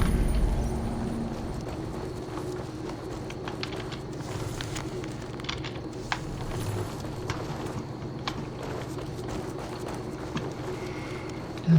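A horse's hooves clip-clop steadily in the video game Assassin's Creed Valhalla, a moderate rhythmic trot over a low ambient background with faint birds.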